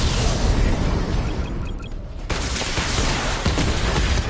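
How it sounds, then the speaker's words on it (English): Missile barrage firing in Batman Arkham Knight makes a dense, loud fusillade of rapid explosive bursts and booms, with a short lull before the barrage resumes. "Missile barrage level 2 ready."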